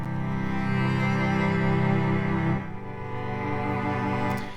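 MIDI string ensemble holds a full chord and then switches abruptly to the next one, the transition sounding stiff and mechanical before the new chord sustains and fades; no voices.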